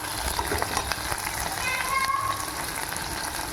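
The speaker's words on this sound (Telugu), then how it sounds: "ఆనియన్స్ వేయించుకోవాలి ఆనియన్స్ ఎక్కువ వేస్తే పులుసుకి మంచి టేస్ట్ వస్తుందన్నమాట" Onions frying in a pan as the base of an okra stew (bendakaya pulusu) give a steady, dense sizzle with a hiss and crackle that holds evenly throughout at moderate loudness.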